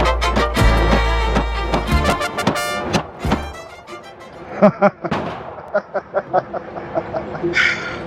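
Staccato pistol shots fired at a shooting range, sharp loud reports in an irregular string of several shots with echoing tails, a few spaced bangs following.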